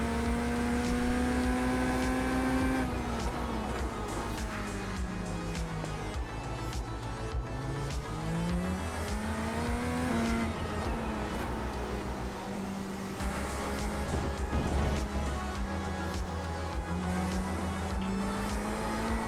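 A race car in a racing video game accelerates hard out of a hairpin in first gear. Its engine whines and climbs steadily in pitch and stays loud and continuous throughout, with no talk.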